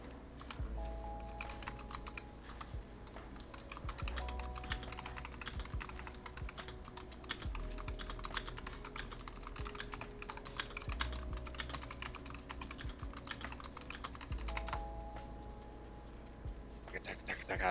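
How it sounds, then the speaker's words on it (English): Fast typing on a computer keyboard, a dense rapid clatter of keystrokes running steadily for nearly eighteen seconds, close and fairly quiet, with occasional heavier key hits. "The machine gun fire of keys flying."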